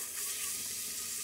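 A soup base of vegetables with celery sizzles steadily on low heat in a pot, a soft, continuous frying hiss heard up close with no talking.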